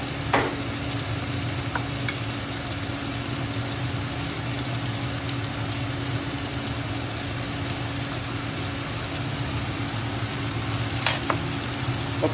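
Oil sizzles steadily in a pan while ampalaya cooks, a constant close hiss with a low hum underneath and a few faint clinks, without talk.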